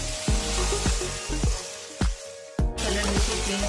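Chicken pieces fry with ginger and garlic paste in a hot karahi, a loud sizzle broken by repeated scraping stirs and clanks of a spoon against the metal pan, with no talking.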